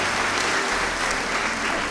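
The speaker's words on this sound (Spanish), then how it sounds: "un aplauso para las Agustinas" An audience applauds for the Agustinas nuns, a dense, steady clatter of many hands clapping throughout, loud and without talk.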